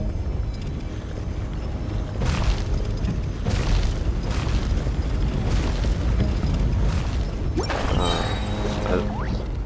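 A big cannon firing in the video game Genshin Impact, several deep booms and crashing blasts over a rumbling mechanical bed, with a ringing burst near the end.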